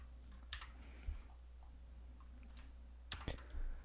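A few sharp, quiet clicks spaced apart, like a computer mouse button being pressed, with faint room hum underneath and no talking.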